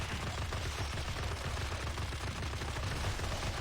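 Deadpool's gun power fires in the Marvel Heroes video game, a dense, continuous burst of rapid gunshots at steady loudness from start to end, with no talking.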